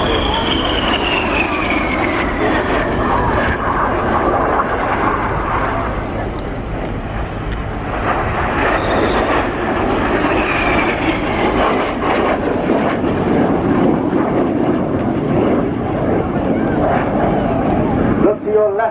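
Display team jets at the RIAT Air Tattoo roar loudly through a boomerang manoeuvre, a continuous powerful engine rumble with a descending whine as they climb, invert and dive, mixed with wind buffeting and faint voices.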